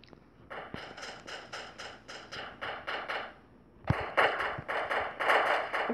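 Rapid bursts of video game gunfire while shooting at spawn: quick rhythmic volleys of sharp cracks, a short run, a brief pause, then a denser, louder burst, close and with no talk.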